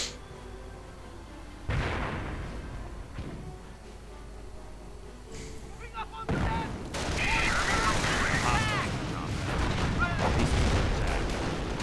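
Battle sounds in a Company of Heroes style video game match with Panzer IVs and mortars: scattered booms and gunshots give way to a heavier barrage of mortar fire and gunfire, with a commentator talking over the action.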